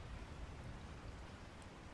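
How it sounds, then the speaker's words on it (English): Rain effect in the video game Resident Evil 4, a faint, steady hiss of falling rain with no distinct drops or breaks, playing alone without talk. "Look at that rain effect."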